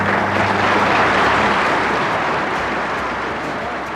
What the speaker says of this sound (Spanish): A su fin, los aplausos y las manos levantadas lo sancionaron